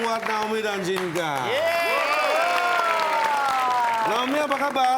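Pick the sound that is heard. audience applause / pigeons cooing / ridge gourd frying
audience applause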